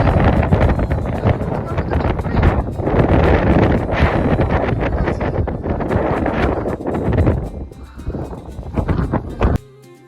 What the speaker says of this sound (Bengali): কেমন গর্জন করে হাওয়া হচ্ছে দেখো, যেন তুফান আসছে।